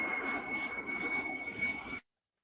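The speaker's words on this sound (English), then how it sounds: "So like these big planes." A large jet airliner passes overhead near an airport, a steady broadband roar that holds throughout and then cuts off abruptly, with no voices over it.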